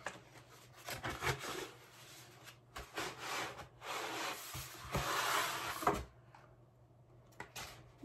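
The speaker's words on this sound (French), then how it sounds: "Donc nous allons ouvrir ce petit colis" A large parcel holding a colouring book is torn and rubbed open, with scraping, rustling cardboard and paper in uneven bursts, then a brief quiet near the end.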